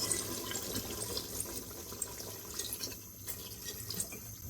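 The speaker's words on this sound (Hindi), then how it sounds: "अब हम इसमें डाल देंगे पानी।" Water runs and splashes steadily into a cooking pot of beef Bihari boti masala, a soft continuous pour with small drips, heard close and moderately quiet with no talking.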